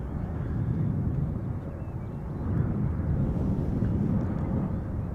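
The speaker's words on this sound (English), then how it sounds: "There's the 777 arriving from Cape Town." A KLM Boeing 777-300 landing at Schiphol Airport after a flight from Cape Town, heard as a steady, distant low rumble of jet engines with wind, broad and continuous, no talking.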